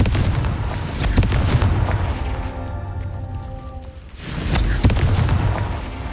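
Fiery Confringo spell blasts in Hogwarts Legacy, a loud booming explosion with rumbling low-end and crackling bursts, dying to a fading hum before a second heavy blast erupts near the end.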